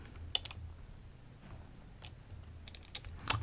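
Keyboard keys tapped on a computer while a Python password manager program is being used, a few sparse clicks in short clusters, faint and close-up, with no talking.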